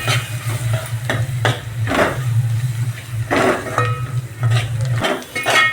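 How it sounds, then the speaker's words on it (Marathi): Coriander powder, turmeric, garam masala and red chili masala fry in a pan for misal pav, a soft sizzle beneath repeated scraping stirs and metal clinks against the pan, close and fairly loud. "मसाले चांगले फ्राय झालेत"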